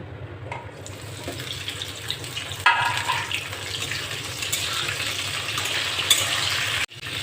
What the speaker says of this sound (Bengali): এবার আমি ওই তেলের মধ্যে কেটে রাখা ফুলকপিটা ভেজে নেব।